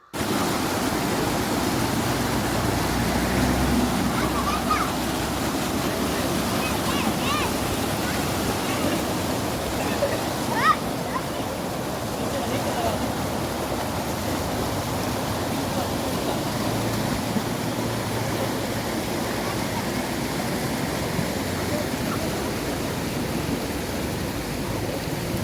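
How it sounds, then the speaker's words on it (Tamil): A stream at a scenic spot in Sri Lanka rushes steadily and loudly for the whole stretch, a dense, unbroken wash of flowing water close by with no pauses. "பாருங்க எவ்வளோ அழகா தண்ணி ஓடுதுன்னு"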